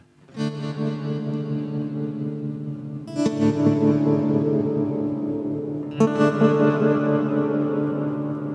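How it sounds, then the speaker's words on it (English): Electric guitar chords wash out through tremolo, delay and reverb, three strums about three seconds apart, each ringing and echoing into the next. No talking. "I'm running through a delay, through a tremolo, a delay, and a reverb"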